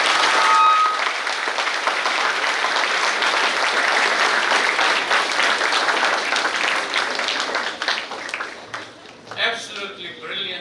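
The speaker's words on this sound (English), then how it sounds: "a big round of applause to all of them." Warm audience applause at a Nelson Mandela commemoration event, steady clapping from a large gathering that holds for several seconds before thinning out, with a voice speaking briefly near the end.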